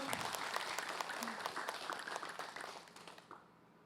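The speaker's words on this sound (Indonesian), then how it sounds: "Tepuk tangan dulu." Studio audience at a religious Islamic television talk show breaks into dense applause, a steady wash of many hands that fades out near the end, with faint voices underneath.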